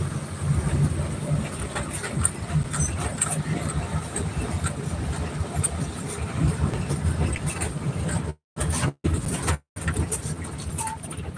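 A vehicle runs steadily along a road through green, forested country, its continuous low rumble and road noise filling the background while a person talks over it, with a few brief cut-outs near the end.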